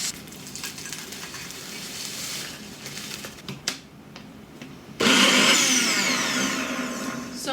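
A blender grinding graham crackers into fine powder for a lemon pie, with a steady whirring motor hum that cuts out briefly, then restarts louder and harsher as it pulverizes the crumbs.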